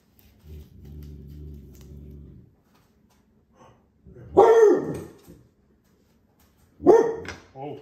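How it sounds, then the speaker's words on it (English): A dog barks at a hawk perched on a backyard fence: a low rumbling growl first, then two sharp, loud barks spaced a couple of seconds apart, close up with quiet between. "My dog is going nuts."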